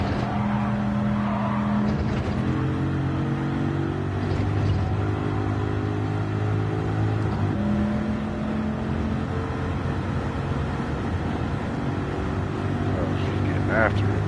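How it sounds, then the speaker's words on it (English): A bone-stock car with no exhaust is driven hard, its engine droning and rising through the gears, close and continuous with shifts in pitch and a brief tire scrub near the end; a voice talks over it. "hearing a bone stock car,"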